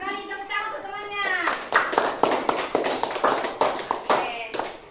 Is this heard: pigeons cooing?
no